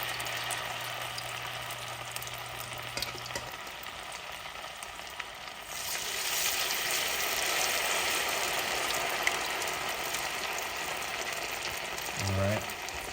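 Fish dropped into hot oil in a pot on an indoor stove, a steady soft sizzle that swells louder partway through and keeps bubbling continuously at close range.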